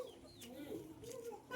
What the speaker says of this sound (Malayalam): ഞങ്ങളുടെ വീട്ടിലെ കുറേ കോഴികളുണ്ട് കേട്ടോ